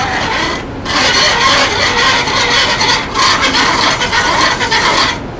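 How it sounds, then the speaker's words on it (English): A drill bores into a stone vessel using the ancient Egyptian method, giving off loud, continuous rasping and grinding strokes with two brief pauses. "Then they start working on it with drills like this."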